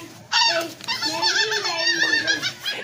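A small dog whimpers and yips in a high, wavering run of cries close by, sustained over a few seconds inside a house during fumigation.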